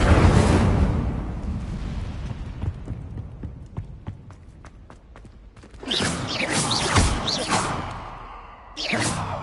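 An Incendio fire spell cast in the video game Hogwarts Legacy, a roaring fiery burst that fades into a series of sharp rhythmic clacks, then renewed loud whooshing flare-ups near the end.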